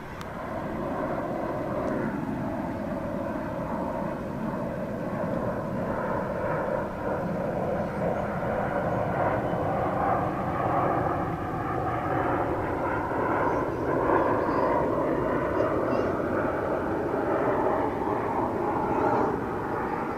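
Frontier airliner passing at DFW airport, a steady distant jet roar with shifting engine tones that swells and fades gradually over twenty seconds, heard outdoors from a distance.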